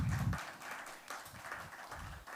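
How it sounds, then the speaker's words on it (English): Audience at a talk on painter Raja Ravi Varma claps as speakers are called onto the stage, a soft, scattered round of applause with a low thump at the start. "A big round of applause"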